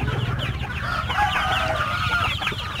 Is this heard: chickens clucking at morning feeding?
yes